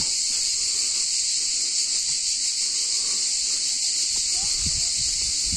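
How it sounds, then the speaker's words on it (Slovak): Dense, steady buzzing of cicadas fills a seaside campsite among trees, a constant loud drone running unbroken throughout, with faint low background noise beneath. "Cikádičky tu nadávajú od rána do večera."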